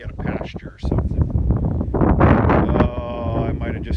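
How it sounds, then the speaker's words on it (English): Strong wind buffets the microphone in loud, rough gusts while a person talks over it. "it's just too darn windy"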